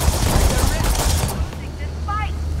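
Rapid gunfire from a weapon in the game Starfield, loud dense bursts through the first second and a half, then fading into quieter game ambience with a few chirpy electronic tones.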